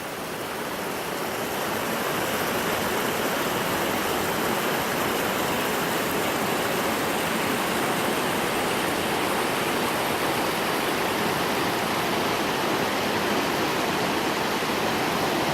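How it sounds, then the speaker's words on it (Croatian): A torrent of water on the Rječina river rushes beneath the Pašac bridge, a loud, steady, unbroken roar that holds constant throughout with no voices. "Voda se slijeva sa svih strana."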